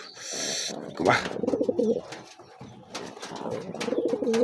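A pigeon, said to bite people, coos in repeated low, throaty bursts close by, with brief voices and handling noises mixed in.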